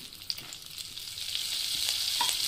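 Tomato chutney frying in a pan, a steady crackling sizzle with light stirring scrapes that grows gradually louder, close and without voices.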